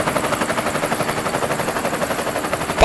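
A helicopter flies over Niagara Falls, its rotor thumping in a rapid, even chop that stays loud and close throughout, with a brief louder burst at the very end.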